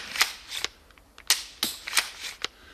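A repeating samurai-style bow being shot, a quick series of about seven sharp snapping releases at uneven intervals, close and fairly crisp, with no voices.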